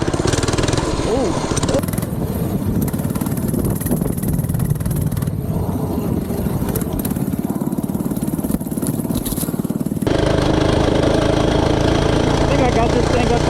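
A small single-cylinder engine on an FRP GMB-100 minibike roars steadily and loudly while being ridden at speed, with wind buffeting throughout and a brief shift in tone near the end.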